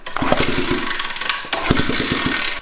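A pit bike engine with no exhaust fitted cranks and fires in two loud, rough bursts of rapid popping, the second starting after a brief dip in the racket, close and alone with no talk.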